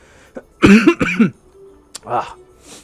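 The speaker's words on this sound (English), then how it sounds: "I don't mean to cough." A person coughs a couple of times up close, short harsh bursts separated by brief pauses, with a faint throat-clearing near the end.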